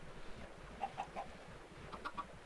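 A chicken in a Monster Hunter video game clucks in short, faint, evenly spaced bursts, three quick clucks followed by another small cluster, over a low background rumble.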